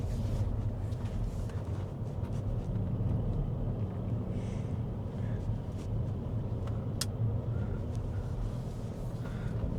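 A Leapmotor C10 electric car cruises on a road at moderate speed, giving a steady low rumble of road and tyre noise with faint wind, continuous and fairly close, and no talking.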